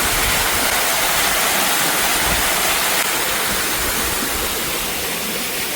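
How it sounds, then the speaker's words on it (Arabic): A waterfall at night gives a loud, steady, close rushing roar of falling water that continues unbroken throughout, with no voices. "بصوا كده في شلال. واو واو واو، بصوا الشلال"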